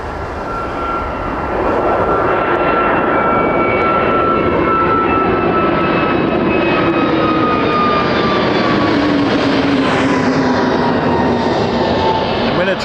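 Azores Airlines Airbus A321neo jet at Toronto Pearson, a loud sustained engine roar that swells in after a quieter start, with whining tones drifting downward as it passes close by.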